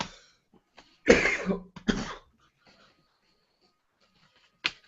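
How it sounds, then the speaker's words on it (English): Two short, strong coughs come close together with a faint throat clear, then quiet stretches and one final brief cough near the end. "I coughed."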